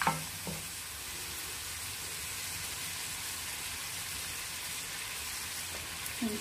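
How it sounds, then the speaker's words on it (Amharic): Minced garlic and ginger frying in a pan for cabbage with meat, a soft continuous sizzle at low level with a couple of brief clatters at the start and end. "የተፈጨ ነጭ ሽንኩርት ላይ ዝንጅብል ጨምሬ አሁን ጥብስ አደርገዋለሁ።"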